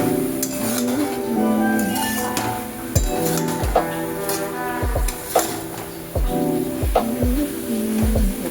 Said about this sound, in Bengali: এবার আমি ভিজিয়ে রাখা সয়াবিনগুলো দিয়ে দেবো। এটা দিয়েও ভালো করে নাড়া।